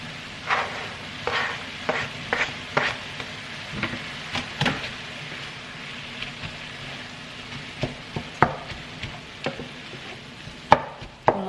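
Meat and onion cook in a pan without oil, giving a soft, continuous sizzle broken by scattered scraping and clattering knocks as a utensil stirs against the pan, close by and with no talking.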